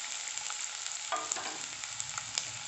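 Onion frying in hot oil while preparing vegetable momos filling, a steady close sizzle with light crackles and a brief stirring clatter near the middle, no voices.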